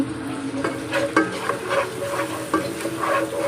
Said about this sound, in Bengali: এবার আমি নেড়ে নেবো